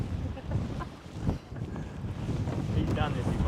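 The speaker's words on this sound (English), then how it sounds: "Wind's gnarly." Strong, gusty wind at a surf beach buffets the microphone in a steady low roar that builds toward the end, with faint surf beneath.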